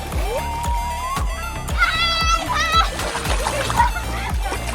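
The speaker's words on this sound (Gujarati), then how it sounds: "અહીંયા ગોલુ જોઈ શકો છો તમે, પાણીમાં છપાક છપાક" Repeated splashing in water at a waterpark with music-like rhythmic thumps underneath, children's voices and playful shouts mixed in, busy and close throughout.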